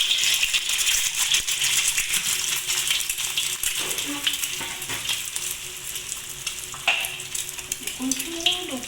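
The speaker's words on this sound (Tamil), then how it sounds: "இப்போ நான் முட்டையை பொரிக்கிறேங்க." Oil sizzles and crackles steadily as an egg fries, for nasi lemak, with occasional utensil clinks and a faint voice underneath.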